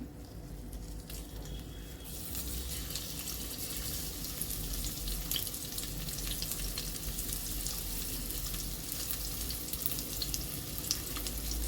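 Food fries in a pan while godhuma ravva dal kichidi is being made, giving a continuous close hiss and crackle of sizzling oil that starts up after a quieter first two seconds, with no talking.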